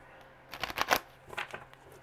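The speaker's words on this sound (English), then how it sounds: "One more shuffle, I swear." Tarot cards being shuffled by hand, two short bursts of riffling and flicking with a brief pause between, close and fairly quiet with no talk.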